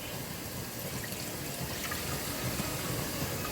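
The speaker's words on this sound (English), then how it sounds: "we're going to put in 3 cups of apple cider vinegar" Apple cider vinegar, three cups, pours from a container into a cooking pot while making summer squash relish: a steady, continuous liquid splash and gurgle that runs the whole time, close by, with no talking.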